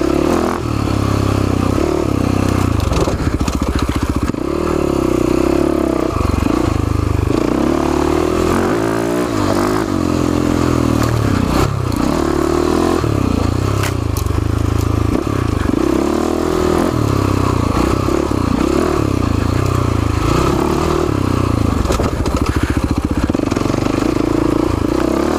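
A Husaberg FX450 dirt bike ridden along a technical trail, its engine running loud and steady throughout with repeated revving and throttle changes, plus clattering and scraping from the terrain.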